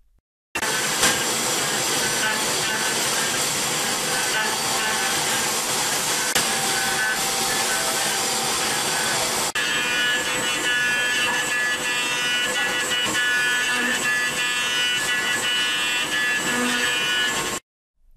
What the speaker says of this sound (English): Let's see a short movie for using tip radius tool machining.